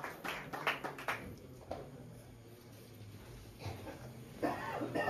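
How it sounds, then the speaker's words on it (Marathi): Scattered hand clapping from an audience at a village felicitation gathering in Konkan, with a brief burst at the start and another swell near the end, over a quiet room murmur. "यांच्यासाठी जोरदार टाळ्या."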